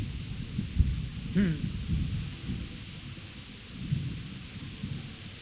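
Thunder rumbles through a rainy storm in Kingdom Come: Deliverance, low booming rolls swelling and fading over a constant rain hiss, with a brief voice heard partway through.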